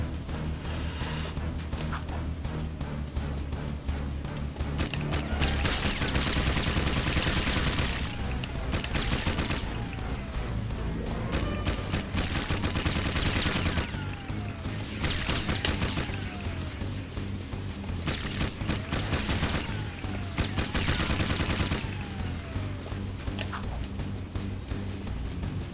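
Video game gunfire in Jak II, a dense, continuous barrage of rapid shots and crashing impacts with loud swells throughout, layered over game sound effects.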